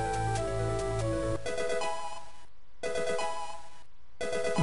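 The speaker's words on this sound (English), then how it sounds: "The Pokemon phone, okay, the Pokemon" In-game Pokemon phone ringing in the video game Pokemon Snakewood, a loud electronic chiptune ring that repeats in short bursts separated by brief gaps, alone and upfront.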